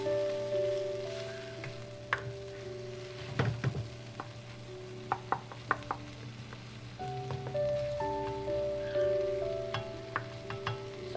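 Ground beef browning in a pan over a high flame for keema aloo, a steady sizzle and frying crackle running throughout, with a few sharper pops and stirring scrapes, close and moderately loud; a steady tonal hum sits underneath.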